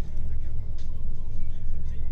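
A car passes on the road near a tourist area around Banff, Alberta, a steady low rumble of tyres and engine heard from close by, with people talking faintly underneath.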